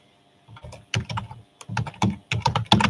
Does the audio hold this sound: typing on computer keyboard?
yes